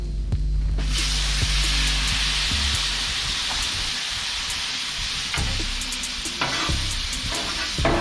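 Shrimp hit hot oil in a pan and break into a loud, continuous sizzle, with a few sharp clinks and stirring scrapes over the frying hiss while making shrimp fried rice.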